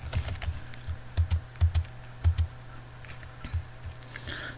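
Keys clacking steadily on a computer keyboard as code is written, close and fairly loud, with irregular bursts of keystrokes and short pauses, no voices.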